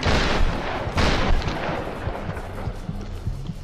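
Gunfire from the Tomb Raider video game: two loud broadband blasts near the start, followed by a rumbling tail of smaller shots and low game sound effects.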